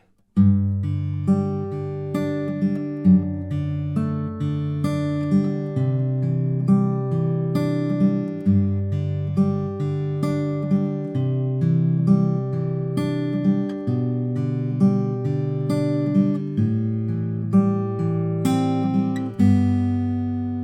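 Fingerpicked acoustic guitar plays the verse of the Christmas carol The First Noel in a steady triple-time pattern, with a low bass line under picked melody notes, close and clear with no talking.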